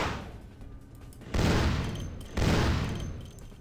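Gunfire rings out in the video game Vampire: The Masquerade - Bloodlines. Two loud, dense bursts of shots hit abruptly over a rumbling background.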